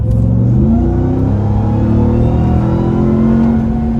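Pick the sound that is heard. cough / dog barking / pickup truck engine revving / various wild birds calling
pickup truck engine revving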